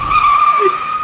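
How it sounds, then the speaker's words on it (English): An animated car skids to a stop, a loud steady tire squeal held for about a second, close and prominent, with no voices. "Oh, she stopped the car."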